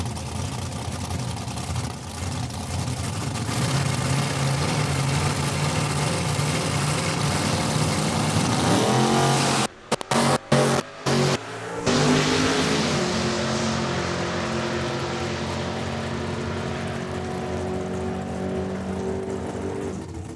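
Drag race cars launch down the strip at Saskatchewan International Raceway during a points race, a loud sustained engine roar that cuts out in brief gaps, then returns as a steadier distant drone.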